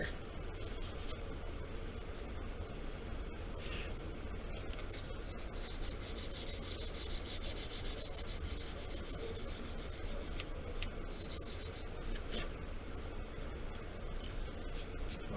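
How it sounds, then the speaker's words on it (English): Seams on a plastic Star Trek Klingon and Romulan D7 battle cruiser model kit are sanded by hand, a continuous close rubbing scratch with brief bursts of faster strokes, steady and fairly quiet throughout, without talk. "But I got a lot of more sanding to do."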